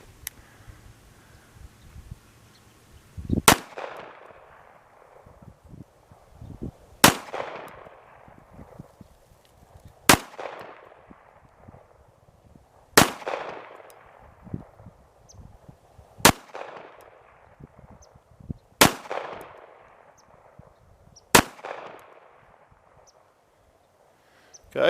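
First rounds fired from a new 1911 pistol at a target: seven loud, sharp gunshots evenly spaced a few seconds apart, each with a ringing decay. Quiet stretches fall between the shots.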